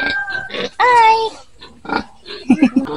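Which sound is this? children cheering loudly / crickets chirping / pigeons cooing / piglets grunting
piglets grunting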